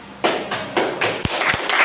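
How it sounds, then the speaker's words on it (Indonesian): A small audience in a university classroom claps for a group presentation, a short run of separate, sharp hand claps and taps that come in uneven bursts, close and moderately loud. "Beri aplaus."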